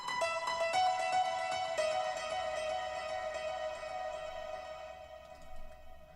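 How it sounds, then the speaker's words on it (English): A short piano trill rings out quickly at the start, rapid alternating notes that then sustain and fade gradually over several seconds, fairly quiet and heard alone. "I know I have that little piano trill"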